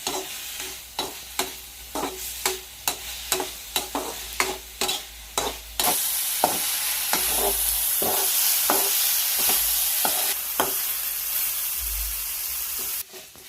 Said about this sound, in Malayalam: ഇനി ഇതിലേക്ക് കറിവേപ്പില ഇട്ട് കൊടുക്കാം. ഇനി ഇത് നന്നായിട്ടൊന്ന് വഴണ്ട് വരണം.